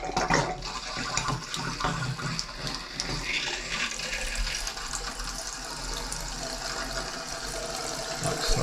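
Water runs steadily from a small tap into a sink in a 1930s downstairs bathroom being renovated, a continuous close splashing rush with a few brief surges.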